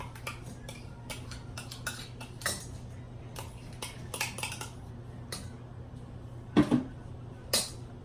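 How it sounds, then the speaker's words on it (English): Pizza dough ingredients, including Greek yogurt, being combined in a bowl: scattered clinks and scrapes of a utensil against the dish, sparse and fairly quiet over a low steady hum. "So all you do basically is just put everything in a bowl together."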